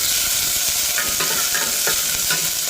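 Chopped onions and green chillies sautéing in a frying pan, with a steady, close sizzle and repeated scraping strokes of a stirring spoon throughout, and no talk.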